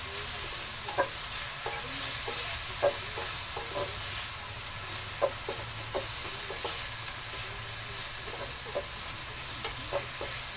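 Pork frying in a pan for adobong sitaw, a continuous even sizzle with small regular pops and stirring clicks throughout, steady and close, without speech.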